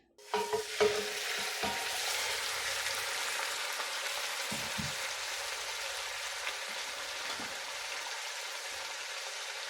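Beef for a karahi lands in hot oil in a pot, setting off a few loud spatters and pops at the start that settle into a steady, close crackling sizzle, with no talking over it.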